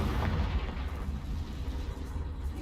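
A Confringo blasting spell from Hogwarts Legacy goes off as a loud, rumbling explosion with heavy low-end boom that sustains and slowly fades over a couple of seconds, with no voices.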